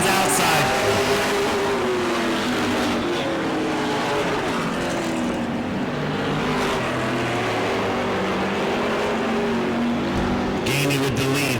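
A-Mod race cars battle for the lead on the Auburndale oval, engines roaring loudly and steadily with rising and falling pitch as the pack passes, a sustained wall of engine noise throughout.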